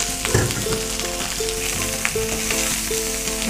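Rice goes into a hot cooking pot for a savoury millet pongal. A constant close sizzle and crackle continues, with faint steady hum tones and scattered soft clatters.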